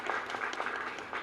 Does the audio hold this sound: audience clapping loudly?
yes